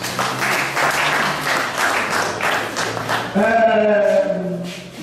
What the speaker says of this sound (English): Please, a round of applause for me, please.